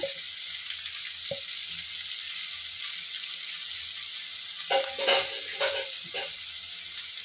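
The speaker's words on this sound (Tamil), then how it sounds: "வெங்காயம் நல்லா பவுன் கலராக கோல்டன் கலராக மாறட்டும். நல்லா வதங்கணும்." Onions and curry leaves frying in oil until golden, a steady broadband sizzle running throughout, with a few louder stirring scrapes and clatters near the end; no one speaks.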